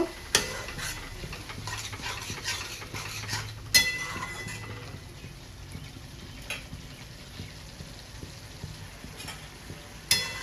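A spice and yogurt mixture for Bengali chicken kosha is stirred in a hot pan, giving a scraping, soft sizzle with occasional sharp clinks of a spoon against metal, close and without talk.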